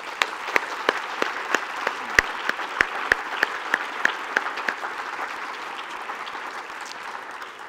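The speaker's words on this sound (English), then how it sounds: "Please give her a round of applause." Audience applause at a university faculty and staff convocation, steady moderate clapping with several sharp individual claps standing out, fading slightly toward the end.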